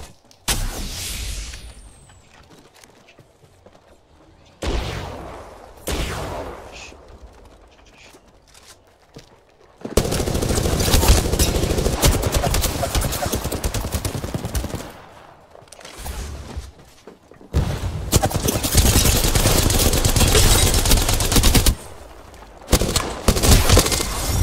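Video game shootout with bursts of rapid automatic gunfire and scattered single shots, loud and dense in long stretches separated by quieter gaps.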